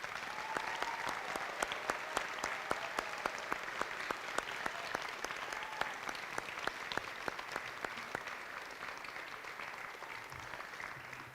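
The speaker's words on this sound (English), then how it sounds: "please stand up so we can give you a round of applause" A gym full of people applauds students receiving awards at a school assembly, with steady, dense clapping and sharp individual claps standing out, sustained throughout at moderate distance.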